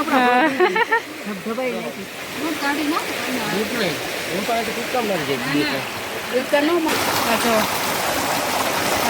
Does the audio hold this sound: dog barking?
no